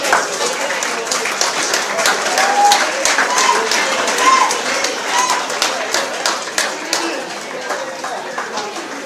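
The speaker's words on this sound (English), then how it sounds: "round of applause for both fighters" An audience applauds both fighters after a bout at a combat sports event. Dense, sustained clapping from the crowd mixes with scattered voices and a few cheers, steady and fairly loud throughout.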